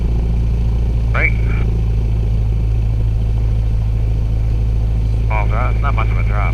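A small airplane engine holds a steady, loud, droning roar during a magneto check run-up before a first flight in Dare County, North Carolina, with two brief voices over the intercom.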